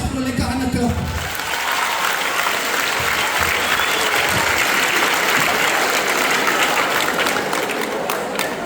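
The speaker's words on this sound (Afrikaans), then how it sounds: "Gee jouself 'n lekker ander klap." A school audience at Atlantis High breaks into loud, sustained applause that fills the room, following a brief lower murmur at the start, with no speech over it.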